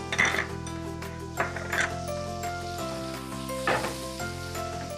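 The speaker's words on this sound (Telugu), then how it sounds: "ఫస్ట్ వెన్నలో గార్లిక్ వేసాం, వెల్లుల్లి" Garlic sizzles loudly in melted butter in a pan for a Hungarian lentil soup, with a steady frying hiss and the occasional clink of a utensil stirring against the pan.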